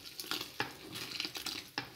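Spoon scraping and stirring a flour mixture thickening in a pan on a farmhouse stove, with a quick series of close, soft strokes and faint sizzling beneath.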